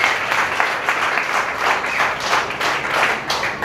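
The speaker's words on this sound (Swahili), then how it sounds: "Hebu tupigie Mungu makofi tukimshukuru" A congregation at a church service claps together in sustained, dense applause with a loose rhythmic pulse, loud and close throughout.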